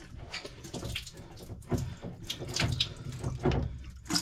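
Cold water running steadily from a tap, a faint, continuous hiss with small splashing flutters, heard while an old plumbing part is being changed.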